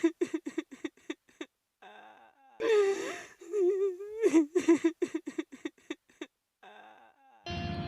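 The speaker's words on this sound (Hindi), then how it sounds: "तभी उसे किसी औरत के रोने की आवाज़ सुनाई देती है।" Cartoon woman in a dense forest crying and wailing, a sequence of sobbing moans and whimpers rising and falling in short bursts, close and fairly loud, with gaps between cries.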